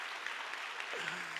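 Congregation applause during a church sermon, a steady burst of many hands clapping at moderate distance, fairly quiet and even throughout.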